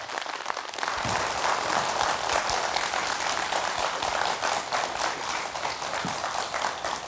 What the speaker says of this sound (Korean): 우선 황호림 숲 해설가를 큰 박수로 맞아주시죠